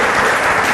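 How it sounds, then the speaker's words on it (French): A studio audience at a 2015 B One Show broadcast bursts into brief, loud applause, a dense and steady roar of clapping hands with no voices over it. "Est-ce qu'on peut applaudir?"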